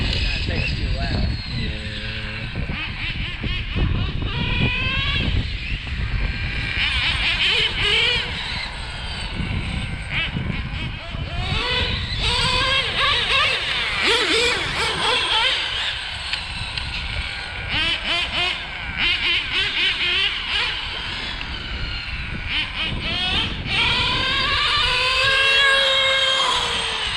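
Small Exceed Mad Drift and Kyosho GT-2 RC drift cars lap a track, their electric motors whining and rising and falling in pitch continuously throughout, with people talking over the steady buzz.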